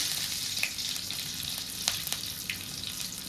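Curry leaves sizzle in hot oil for a mutton fat gravy, a steady close crackle with sharp little pops scattered through it, heard alone without talk.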